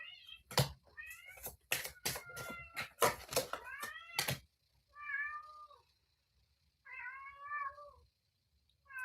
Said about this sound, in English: Do you guys hear the cat?